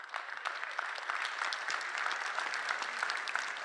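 Steady applause from an audience at a SharePoint software demo, dense and sustained clapping filling the room at moderate distance without letup.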